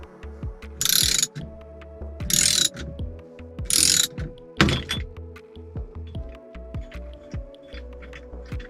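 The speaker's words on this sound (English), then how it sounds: "we gotta use our steering wheel puller tool to remove this and get the" A steering wheel puller tool working on a GM Buick steering wheel, with repeated ratcheting clicks and mechanical grinding plus several loud bursts of hissing, close and steady, no talk.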